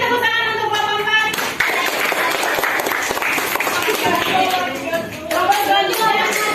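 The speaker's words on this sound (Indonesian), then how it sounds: "Berikan tepuk tangan untuk Bapak Empat." An audience applauds a presenter at a teacher training session, steady dense clapping from a room of people with some voices mixed in throughout.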